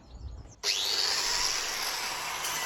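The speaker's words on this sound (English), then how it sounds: "So I've got the angle grinder with a nice wire brush in the end of it." An angle grinder fitted with a twisted wire brush starts up and cleans a lawn mower blade, giving a sudden loud, steady high-pitched whir and scrubbing hiss that carries on at close range without speech.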